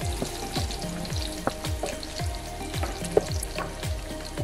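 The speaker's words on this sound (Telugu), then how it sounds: "కట్ చేసిన డ్రై ఫ్రూట్స్ అండి ఇప్పుడు నెయ్యిలో వేసేసుకుందాము" Chopped dry fruits fry in ghee in a pan for payasam, a steady close sizzle broken by repeated scraping stirs and a few sharp pops.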